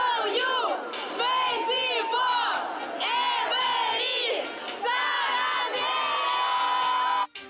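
A sold-out concert crowd of K-pop fans at a show in Moscow: loud, close, high-pitched cheering and rhythmic chanting that swells in waves, with screams, then cuts off abruptly.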